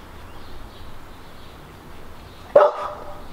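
A single sharp dog bark rings out near the end after a few seconds of quiet room tone, loud and close, with no talking.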